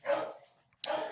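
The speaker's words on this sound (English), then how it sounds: "please excuse the dogs in the background." Dogs bark in the background, two short yapping barks a moment apart, fairly faint and somewhat distant.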